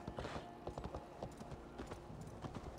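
Horse hooves clip-clop in Assassin's Creed Valhalla as a quick, fairly soft series of hoofbeats, with a horse snorting faintly along with them.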